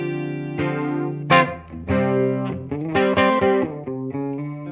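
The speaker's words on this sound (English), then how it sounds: "a chorus, which sounds like this." A clean electric guitar through a Blackstar AMPED 2 amp plays a short run of plucked notes and chords with a lush, shimmering chorus wash, each note ringing with a slight wobble.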